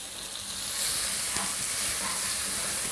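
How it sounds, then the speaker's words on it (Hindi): Chopped medium onion roasting in a pan for an aloo samosa filling, a steady close sizzle and hiss with a few faint clinks partway through, and no voices. "थोड़ा सा इसको मैं रोस्ट करूँगी प्याज को।"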